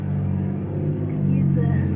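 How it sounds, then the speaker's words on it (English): Road traffic close by makes a continuous low rumble that swells slightly toward the end, heard outdoors while denim is prepared for bleaching. "Excuse the road noise"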